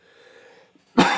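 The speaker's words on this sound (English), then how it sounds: "Sorry, I'm going to be coughing a little" One sharp, close cough from a person, following a brief stretch of quiet room tone.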